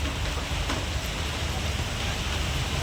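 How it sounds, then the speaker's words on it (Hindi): Heavy rain pours down steadily outdoors on a morning at an Indian family home, a dense, even hiss that runs unbroken and close throughout. "अरे दोबारा आ गई बारिश"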